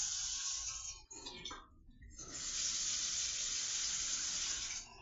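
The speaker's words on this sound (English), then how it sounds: "I can't take the sound of the water." Water runs from a tap into a kitchen sink holding dishes, a loud steady hiss that briefly breaks and gurgles before flowing strongly again.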